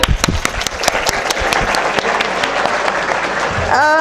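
Steady applause from a crowd at a college graduation ceremony, dense clapping throughout with a few sharper claps early on, ending as a rising whistle-like tone cuts in.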